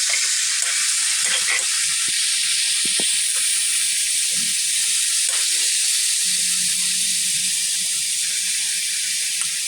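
Squid sizzles steadily while frying with ginger in a pan, a constant broad hiss with occasional soft clicks and scrapes of stirring, close and alone with no voice.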